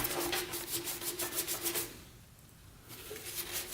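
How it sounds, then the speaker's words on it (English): Blue paint is rubbed off a Honda CB350 motorcycle part with brake cleaner, making rhythmic scrubbing strokes, close and moderately loud, that pause briefly and then resume. "We'll see if the brake cleaner takes out that blue paint."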